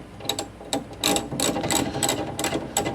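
An electric ratchet with a nearly dead battery whirs in short, weak bursts, several stuttering runs separated by brief pauses, close by.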